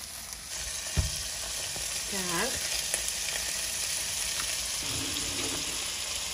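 Beef burger patties sizzling steadily in a frying pan in a home kitchen, a continuous close frying hiss with a clink or two of utensils and a brief spoken word.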